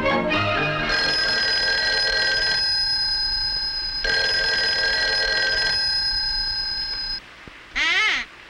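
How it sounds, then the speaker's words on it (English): An old telephone bell rings in two long, loud bursts separated by a pause, followed by a brief chirping tone at the end, with no talking. "Answer the phone, Susie."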